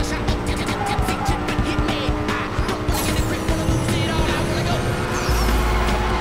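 Car drifting in the NFS No Limits racing game, with tire squeal and skidding over a steady engine drone. The sound runs continuously and loud throughout, with brief voices mixed in.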